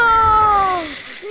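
A kitten meows in a video game, one clear, drawn-out cry that slides downward and fades after about a second, close and fairly loud.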